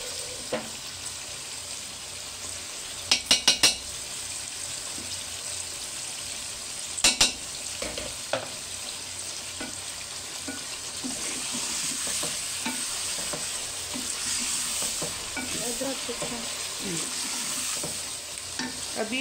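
Ginger-garlic paste sizzles steadily as it fries in a pan for a chicken kaleji dish, with a spoon scraping and stirring throughout and a few sharp clinks of utensil against the pan.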